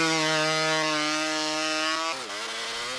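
Hot saw, a chainsaw driven by a two-stroke motorcycle engine with an expansion chamber, used in North American logging competitions: a loud, high-pitched sustained engine whine that drops in pitch near the end as it bogs into wood.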